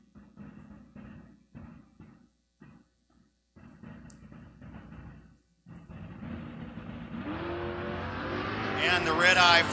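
Buick door car at a drag race, an announcer talking over the crowd before the engine builds into a loud, rising roar as it accelerates down the track.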